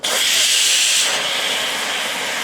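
A pressure cooker cooking drumstick rasam vents steam in a loud, steady close-up hiss that holds for a couple of seconds and eases only slightly.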